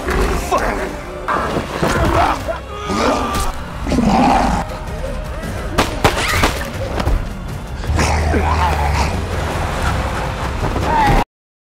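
A large creature in a film roars in anger, a loud, sustained growling roar with heavy thuds and dense soundtrack noise around it, while a narrator speaks over parts of it.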